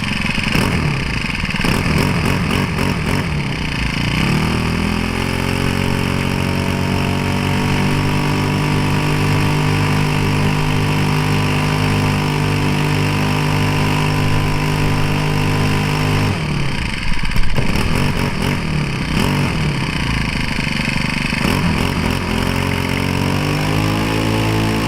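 A Troybuilt 4-cycle string trimmer engine runs while warming up, a loud, buzzing drone that sputters and surges near the start, settles into a steady high idle, then wavers and revs again toward the end.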